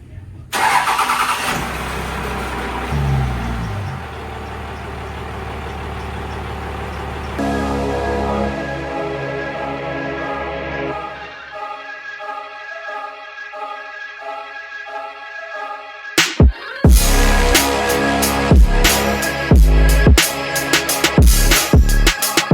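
A 1998 Dodge Ram 2500 pickup engine cranks and catches, then idles and pulls away with steady mid-pitched running noise, followed by louder knocks and rattles from the cab near the end.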